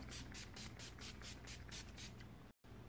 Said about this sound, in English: I am now going to put on my finishing spray